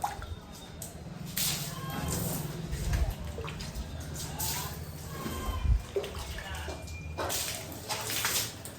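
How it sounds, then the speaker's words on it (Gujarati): Water is flung by hand from a container, producing irregular wet splashes and patters in bursts, with brief voices nearby. "હાલો તો પાણી છાંટી દઈએ,"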